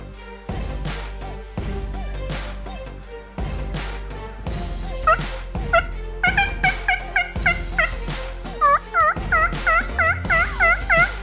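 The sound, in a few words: wild turkey gobbling in the woods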